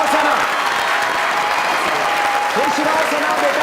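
Standing ovation from a comedy talk show audience for Sana, a gold-medal sprinter: sustained, thick clapping from a crowd with a host's voice talking over it.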